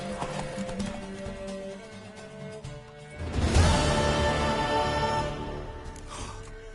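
Rhythmic hoofbeats of a galloping horse in The Witcher 3 video game clatter along, growing louder midway, with a faint musical score and occasional whinny underneath.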